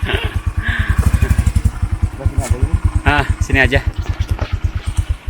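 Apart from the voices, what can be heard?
motorcycle engine arriving at forest campsite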